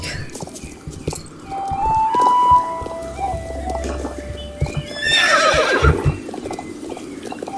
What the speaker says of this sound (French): Vous avez de beaux chevaux.